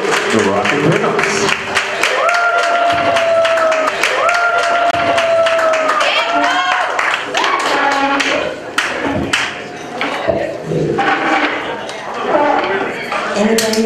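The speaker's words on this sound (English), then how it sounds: "give them a round of applause here" An audience applauds a band in a live show at the Viscount Hotel, with dense clapping and crowd noise mixed with sustained musical tones and a speaking voice throughout.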